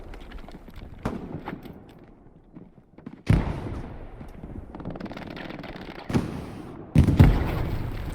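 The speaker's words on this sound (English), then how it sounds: "Oh, his grenade is landing extremely close." A grenade detonates close by in an 18-versus-18 military shooter match on a derailed-train map: a loud, sudden broadband blast bursts out of quieter gunfire and rumble, followed by further sharp explosive thumps and a sustained noisy tail.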